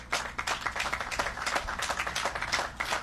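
Audience applause at a tourism development announcement in St. Kitts, with close, individually audible claps in a quick uneven rhythm rather than a dense roar, as from a small group nearby.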